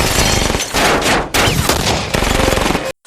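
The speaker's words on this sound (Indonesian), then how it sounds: "Polisi pun sampai di TKP dan mereka langsung diberondong peluru oleh para triad." Dense gunfire from an action film as triad gangsters open fire on police, loud rapid automatic bursts in several volleys with brief breaks, ending abruptly.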